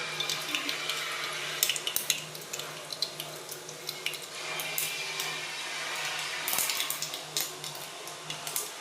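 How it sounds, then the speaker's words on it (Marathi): Mustard seeds crackle in heated oil in a kadhai, a wok, while tempering black ghevda bean amti: a dense, fairly faint hiss with rapid irregular pops and clicks and no talking. "त्यानंतर कढईमध्ये तेल गरम करून मोहरी चांगली तडतडून देऊ."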